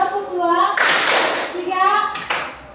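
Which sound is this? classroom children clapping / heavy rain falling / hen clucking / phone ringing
classroom children clapping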